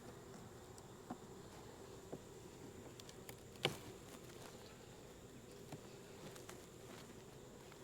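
Honey bees hum faintly around an opened hive on a farm, a soft, steady drone broken by a few light ticks and taps.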